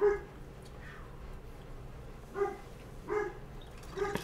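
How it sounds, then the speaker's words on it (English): A dog barks outside at night, faint and distant. There are a few scattered barks, one near the start and a couple more toward the end, against a quiet background hiss. "Why is that dog barking?"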